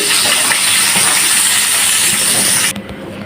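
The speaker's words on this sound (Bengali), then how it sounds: "সব মুরগিগুলো এভাবে ভেজে নিচ্ছি" Chicken pieces fry in hot oil with a loud, steady sizzling hiss that stops abruptly near the end, leaving a quieter background.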